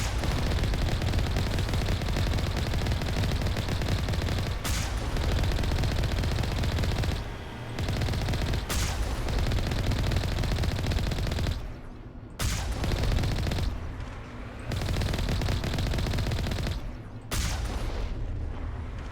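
Heavy gunfire in the Mass Effect video game, sustained rapid bursts of automatic weapon fire that go on almost nonstop, broken by a few short pauses and dull booms, loud and close throughout.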